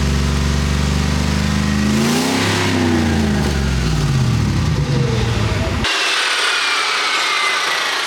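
Rusty exhaust pipe being sawn through, about 4.5 feet cut for a truck turbo project, a loud continuous rasping cut over a running engine whose pitch rises and falls, with harsh grinding noise dominating toward the end.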